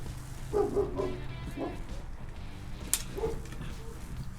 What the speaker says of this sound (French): Nous pouvons entendre le chien Antoine qui n'est pas content.